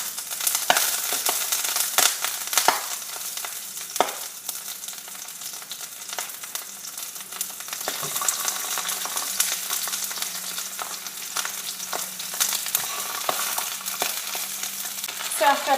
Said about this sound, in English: now that the olive oil is nice and hot, we're gonna go ahead and add these sausages in here